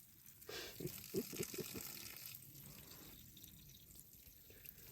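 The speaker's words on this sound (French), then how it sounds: "ça coule de partout quoi" Water leaking and splashing from a broken Froyak solar camping shower bag, with a short burst of irregular drips and spatters early on, then a steady faint trickle continuing alone.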